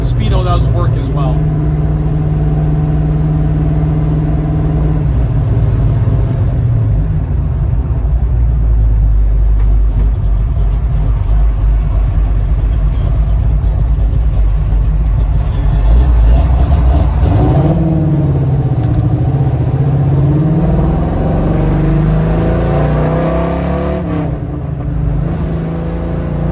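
A 1971 Chevrolet Nova's four-barrel 350 V8 with headers idles close up with a steady, loud rumble, then revs briefly before settling again, while someone talks over it.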